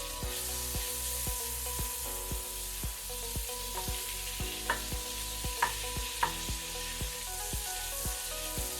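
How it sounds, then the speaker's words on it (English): Butter sizzles and crackles steadily in a Dutch oven for clam chowder, a constant frying hiss with small pops and a few soft clinks, no talking. "It's a good sizzle."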